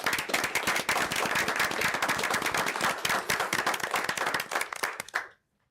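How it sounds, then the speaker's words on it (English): A city council meeting audience in Danville claps for a departing staff member, a brisk, dense round of close, sharp hand claps lasting several seconds before stopping abruptly. "Let's give Carl a round of applause, please."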